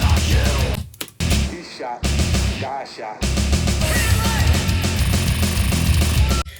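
The original 1994 master of a track plays as dense, full music with a sampled vocal line, broken by a few brief drop-outs and gaps.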